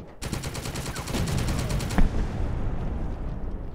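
Rapid automatic gunfire from the military video game The Troop, a steady burst of repeated shots for about two seconds with a sharper bang near the end, then lingering battlefield rumble.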